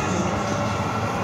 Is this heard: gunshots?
no